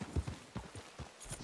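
Horse hooves clip-clop in Red Dead Online near Blackwater, a steady run of hoofbeats heard up close with no talk over them.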